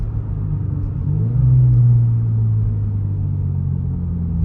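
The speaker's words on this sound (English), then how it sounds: "I'm gonna hit the brakes a little bit and you're gonna hear how much engine braking it does." A Toyota GR86 in sport mode engine-braking as it slows, a low rumbling exhaust note that swells briefly, then settles into a steady deep drone, close and fairly loud with no speech.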